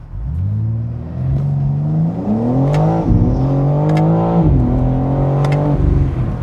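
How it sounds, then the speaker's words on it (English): A BMW M4 Convertible launching hard from a standstill, its engine roaring loud and close as it climbs through the revs, with brief dips at gear changes before pulling up again. "launching it is just brutal, as I shall shortly demonstrate."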